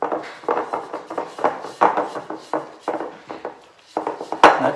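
Peach cobbler batter is folded together in a bowl, with repeated soft scraping and clinking strokes of a utensil against the bowl in an uneven rhythm.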